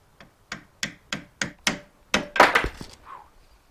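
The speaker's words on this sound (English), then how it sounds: "we're going to give it a couple little taps with the nylon or rubber" A nylon or rubber mallet taps a transmission gear into place during a Datsun 510 gearbox rebuild: about eight sharp, evenly spaced knocks, close and distinct, with a slightly denser cluster of hits near the end.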